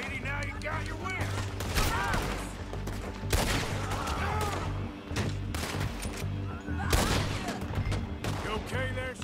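Gunfire in Red Dead Redemption 2: repeated loud, sharp shots in irregular bursts amid game sounds, with voices talking in between.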